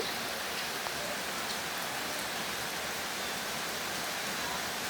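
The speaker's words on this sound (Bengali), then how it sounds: "এখনকার সময় এরকম বৃষ্টি হচ্ছে।" Steady rain falls with a dense, even hiss, continuous and fairly close, with no voices.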